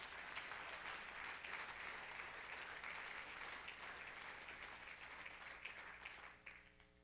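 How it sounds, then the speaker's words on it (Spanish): Congregation applause in a Christian church service, a continuous, full wash of clapping from many people that holds steady and thins toward the end as a low hum enters. "dele fuerte el aplauso al Señor"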